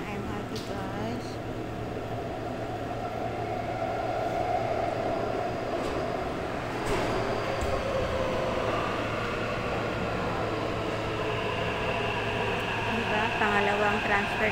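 An MRT train rumbles steadily into a station, a low continuous roar with a faint squeal of brakes and hum, filling the whole stretch without pause.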